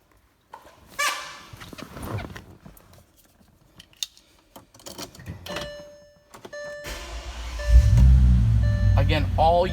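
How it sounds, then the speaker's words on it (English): A 2005 Bentley Continental GT in excellent condition starts up in the final seconds: a brief starter whir, then a loud, steady low engine rumble settling into idle. Earlier there are faint clicks, chimes and some talk. "I'm going to jump behind the wheel and actually start it up for you."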